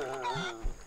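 A cartoonish in-game bird call, tagged more as a goose-like honk than a cluck, gives a short burst of fowl noise over a steady game music bed and ambience, ending with a low thump.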